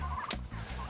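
A turkey on a farm gives a brief, close gobble, a quick rattling burst of calls lasting about a second.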